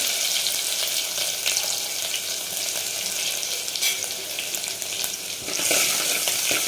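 Ten or twelve crushed garlic cloves frying in oil for a village-style gram-greens dish, a steady close hiss of sizzling broken by occasional scraping stirs, with no talk.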